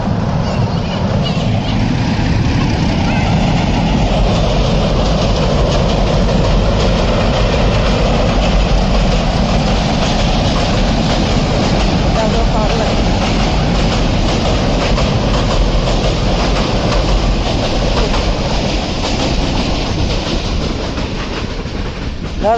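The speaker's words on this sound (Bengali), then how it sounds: "একটা বড় ট্রেন আসতেছে, দেখেন আপনি" A large train rolls past close by, a loud, steady rumble with rattling wheels and clattering cars that holds without a break from start to end.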